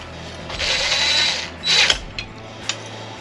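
A screw is driven through a handle mounting hole on a Rec Teq BFG 2500 pellet grill smoker, giving a close mechanical whirring burst, then a second shorter burst followed by a few small clicks and taps, with no talking.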